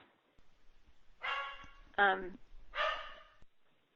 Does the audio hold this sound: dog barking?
yes